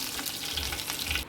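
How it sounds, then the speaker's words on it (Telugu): Curry leaves dropped into hot tempering oil for a coconut chutney, giving a steady, close crackling sizzle throughout with no talk. "ఇప్పుడు రెడీ చేసి పెట్టుకున్న కరివేపాకును కూడా వేయండి"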